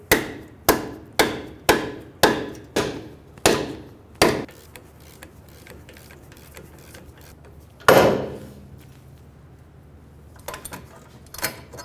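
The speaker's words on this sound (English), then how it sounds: "I'm going to be using a ball joint removal tool" A ball joint removal tool is hammered on a 2003-2008 Honda Pilot front knuckle: seven sharp, evenly spaced metallic strikes, then a lull, one louder blow and a few faint knocks.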